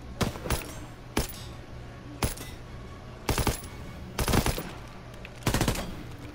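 Six separate bursts of gunfire at targets in Call of Duty WWII, some single sharp shots and some quick doubles, loud and close, with quiet game ambience in the gaps.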